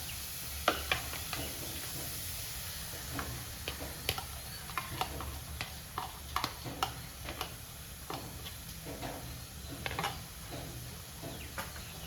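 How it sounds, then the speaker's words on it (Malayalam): Egg is poured into a hot pan for a Kerala-style spinach and egg stir-fry, giving a continuous sizzle with many scattered sharp crackles and pops, close by and with no talking. "ഇതിലേക്ക് മുട്ട ഒഴിച്ചു കൊടുക്കാം"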